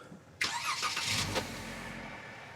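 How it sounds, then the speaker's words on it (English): A Jeep engine cranks and catches near the camera, a sharp onset of starter whine and combustion that settles into a steady idle, heard on a Southern California off-road trail. "Go ahead and turn on the vehicle."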